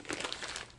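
A plastic bag full of old soft plastic fishing grubs crinkles and crackles loudly and close up in one short, dense burst with no voice over it.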